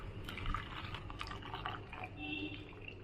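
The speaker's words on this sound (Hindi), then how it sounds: "फुटी रखी पानी को सेथिरे ढाली नेबा।" Water is poured into a pan while cooking paneer kofta gravy. It makes a faint, continuous splashing and trickling for about three seconds.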